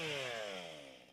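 A chainsaw at a sports lumberjacking world championship in Marseille whines at high revs, then its pitch slides steadily downward as the engine winds down, loud and close, with no talking.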